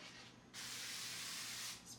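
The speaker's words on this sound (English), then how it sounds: "Spray of oil, that way it doesn't stick." Cooking oil spray hisses into a pan in a short burst, then a longer steady spray of about a second and a quarter, close and clear with no speech.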